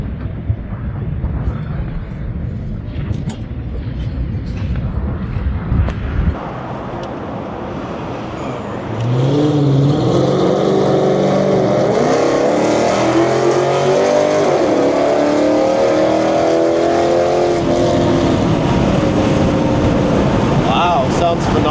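A 6.1 Hemi V8 fitted with 2-inch American Racing long tube headers idles with a low rumble, then revs hard about halfway through, its loud exhaust note rising and falling in sweeping pitch.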